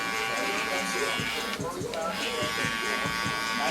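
Hair clippers drone with a steady close electric buzz throughout a fade haircut, the blade corner worked over the hair with the guard lever open, while someone talks over it.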